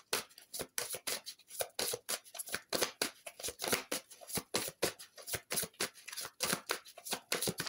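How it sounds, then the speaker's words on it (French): Oracle cards are shuffled and drawn by hand, giving a rapid run of crisp papery riffles and flicks that repeat closely and steadily with no voices over them. "je fais le tirage et puis on regarde les cartes."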